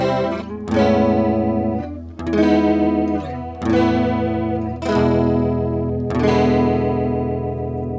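An electric guitar plays four strummed chords through a shimmering chorus-like effect, each ringing out and decaying before the next, loud and alone.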